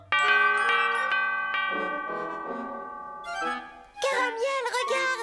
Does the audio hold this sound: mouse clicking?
no